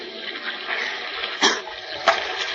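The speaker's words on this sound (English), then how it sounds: "A stiff breeze lashes the sea into angry white-capped waves that pound at the shipwrecked trio as if trying to tear them loose from the upturned hull" Radio drama sound effect of sea waves pounding an upturned, capsized boat: a steady rushing wash of water with two sharper splashing surges, fairly loud and alone with no talk.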